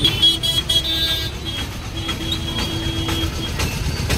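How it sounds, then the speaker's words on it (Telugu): Heavy traffic in pouring rain: a constant hiss of rain and tyres on wet road under idling engines, with a sustained vehicle horn tone sounding on and off and a few sharper knocks. "full heavy traffic in full rain"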